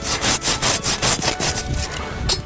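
A hand saw cuts through a tree branch in steady back-and-forth strokes, about a dozen rasping pulls, close and clear with no talking.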